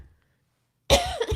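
A single cough from a woman doing her makeup at home, starting abruptly after near silence and trailing off in a short, raspy burst with a second small catch at the end.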